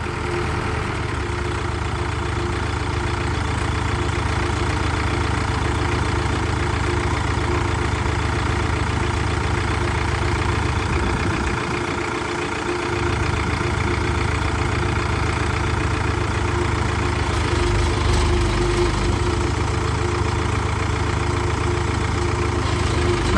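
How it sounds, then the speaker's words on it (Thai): A Kobelco SK120-5 excavator engine idles with a steady, even rumble that dips briefly about halfway through, then carries on unchanged. No one speaks. "เสียงเครื่องยังโอเคอยู่ครับ เสียงเครื่อง"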